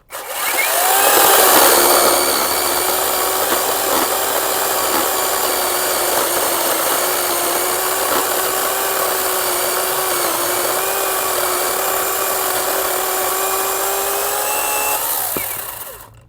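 A Procraft cordless chainsaw runs steadily for about fifteen seconds, its high motor whine holding under a moderate load as it cuts through dry, hard wood.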